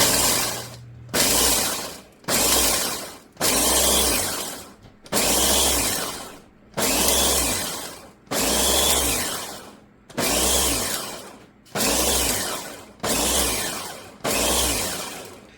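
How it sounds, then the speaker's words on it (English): A blender pulses dehydrated eggs into powder in about ten loud, close, evenly spaced bursts of roughly a second each, with short gaps between them and no voices. "I just do a couple of pulses until we get a nice powder"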